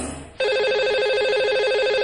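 A phone line ringing out to a radio phone-in caller: a steady electronic ringtone with a warbling tone that starts suddenly and holds loud and clear throughout.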